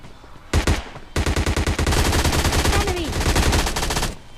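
MP5 submachine gun fire in PUBG Lite: a short burst, a brief pause, then a long, loud, rapid automatic stream lasting about three seconds, close to the player.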